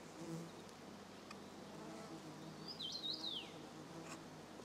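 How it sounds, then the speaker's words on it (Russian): Faint buzzing of bees drinking around water outdoors, with a brief higher chirp partway through; quiet and fairly distant. "Тут пчелы, наверное, воду берут"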